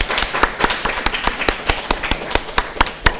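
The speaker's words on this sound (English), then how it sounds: "big round of applause" An audience at a science institute event claps in a steady run of sharp, evenly spaced claps, fairly close and loud, with no talking over it.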